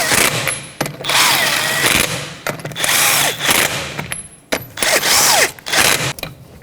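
A power tool on a 2006-2012 Toyota RAV4 tightens wheel bolts during rear caliper replacement, in several loud, close, whirring bursts separated by short pauses.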